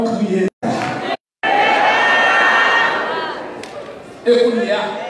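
A church congregation at a Haitian Baptist service shouts and cheers loudly in a swelling crowd roar, with speech and cut-off voices before it and a voice rising over the crowd near the end.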